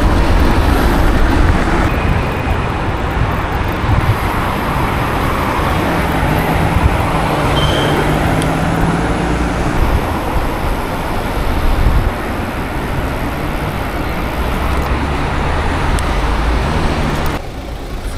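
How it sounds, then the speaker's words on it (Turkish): Heavy road traffic at night near a busy junction, petrol station and university campus, heard as a loud continuous roar of passing vehicles with occasional swells and no talking. "Gece trafik devam ediyor sayın seyirciler."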